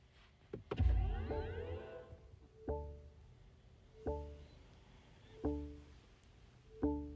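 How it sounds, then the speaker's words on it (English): A synthetic start-up sound effect of a 2022 BMW iX electric SUV: a rising sweep followed by four evenly spaced tonal chimes, each with a low thump, fairly close and clean. "when you start the car, it makes this very cool noise, very cool sound effect"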